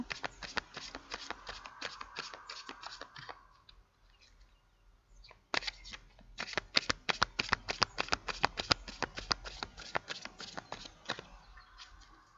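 Tarot cards being shuffled and drawn by hand, a steady run of crisp riffling clicks and flicks, pausing briefly midway before resuming with sharper, denser snaps, close and alone without speech.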